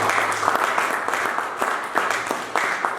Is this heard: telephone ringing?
no